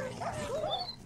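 Dogs in a Minecraft game whimper softly, a couple of short, faint whining cries with a thin high yelp near the end.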